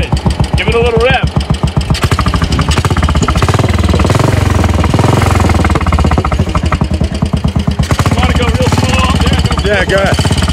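A Royal Enfield motorcycle fitted with a sidecar runs close by, its engine thumping hard and rising as it is revved, with people talking over the loud, pulsing rumble.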